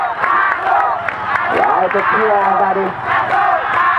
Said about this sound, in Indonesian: Sorak, sorak, riuh, rendah suara penonton memberikan dukungan kepada timnya masing-masing.